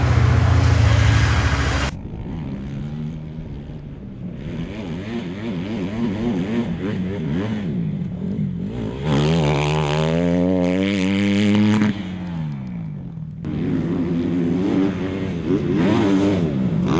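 A 2010 Honda CRF20R motocross bike at Paris Raceway, its engine revving hard in repeated rising and falling bursts with a buzzy, loud close-up tone, alone without talk.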